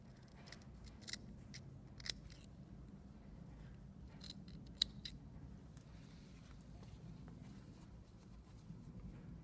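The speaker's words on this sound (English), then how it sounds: "what I generally do is use my snippers, so I pull them down to a point" Small snippers trim excess fabric at the corner of a classic shirt collar, giving a series of quiet, close, crisp snips spread over a soft background hush, with no talking.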